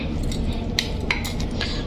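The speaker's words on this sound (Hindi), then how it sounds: "तो कुछ इस तरीके से इनको छोटे छोटे पीसेस में कट कर देंगे" A knife cuts cooked dough into small pieces in a home kitchen, giving a few sharp, separate clicks and taps against a plate or board over a faint steady background hum.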